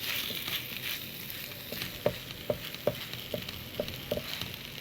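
A spoon stirs and mixes momo ingredients, including ground pepper, in a sizzling pan, the scrapes clicking in a steady rhythm of about eight strokes over a low frying hiss.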